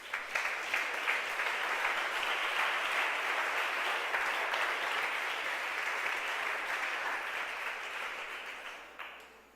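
Sustained applause from a church congregation clapping for the Lord, a dense steady wash of many hands that holds for several seconds and tapers off near the end, with no speech over it.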